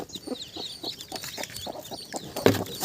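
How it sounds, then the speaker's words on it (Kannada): Country hens and their newly hatched chicks: rapid high peeping from the chicks mixed with low clucks from the hen, a busy continuous chorus close up with no speech. "ನಾಟಿ ಕೋಳಿ ಮರಿಗಳು."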